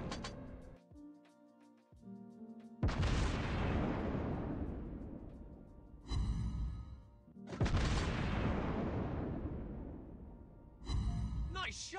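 Naval gunfire in World of Warships Blitz: two heavy booming salvos a few seconds apart, each with a long decaying rumble, plus sharper follow-up shots, and brief game sounds and voice before the first blast.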